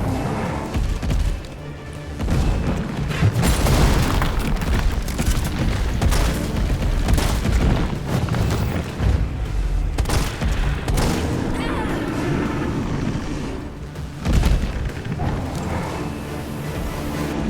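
Gunfire aimed at a monster in Resident Evil 3 Remake comes as repeated loud shots and heavy thuds over rumbling game noise and music, with a voice talking at times.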